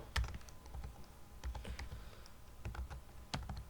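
Typing on a computer keyboard: quiet, uneven clusters of key taps with short pauses between bursts, close and faint, with no voice.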